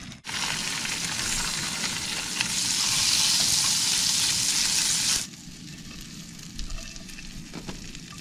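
Steak and eggs sizzle loudly in the same dirty pan, a dense steady crackle that builds, then drops sharply to a quieter frying hiss with small pops near the end.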